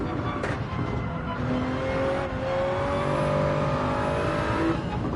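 Race car engines rev continuously in a racing video game during warm-up laps with other cars, a loud, steady roar with rising and shifting pitch and occasional tire squeal, without talk.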